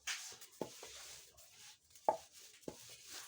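A wooden rolling pin works roti dough on a board, giving soft rolling sounds broken by a few sharp knocks and clacks at irregular intervals in a quiet kitchen.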